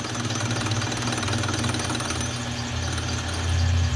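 A small metal lathe takes light cuts to round off the corners of a metal part, giving a steady, loud mechanical drone with a low engine-like hum that swells slightly near the end, with no talk.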